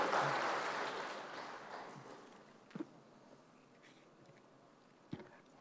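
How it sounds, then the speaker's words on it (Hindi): An audience applauds to welcome a minister at an irrigation project inauguration and foundation-stone ceremony. The clapping starts full and gradually fades away, with a couple of faint knocks near the end. "जोरदार तालियों से राज्य मंत्री जी का स्वागत किया जाए"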